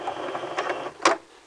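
Sewing machine back stitching a flat seam in a short, quiet whirring burst, followed by a brief sharper mechanical clack near the end.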